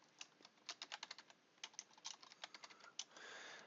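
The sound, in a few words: typing code on a computer keyboard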